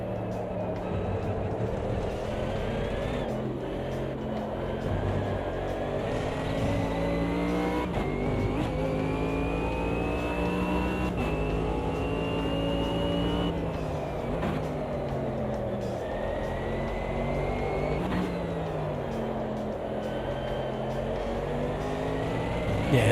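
A race car engine in the Automobilista 2 sim racing game drones steadily and loud, its pitch climbing through gears and dropping on shifts, repeatedly rising and falling as the car works through corners.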